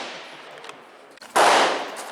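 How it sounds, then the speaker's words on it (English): A single sharp, loud crack from a Smith & Wesson Sport .22 rifle fired outdoors at close range, after a quieter stretch of background noise. "she's shooting a Sport 22 Smith & Wesson"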